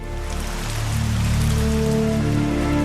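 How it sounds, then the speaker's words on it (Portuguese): A rain sound effect stands for methane rain falling on Saturn's moon Titan: a dense, steady patter of drops, loud and continuous, blended with low sustained tones. "Então parece que chove metano líquido sobre Titã, ou choveu no passado."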